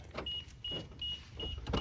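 The power door locks on a 2001–2005 Lexus IS300 actuate as the car is unlocked, giving a series of about four quick, evenly spaced mechanical clunks with a brief motor whine. The sound is close and quiet, with no talking.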